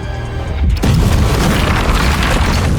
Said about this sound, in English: The resulting blast wave caused Vasily and the others to stagger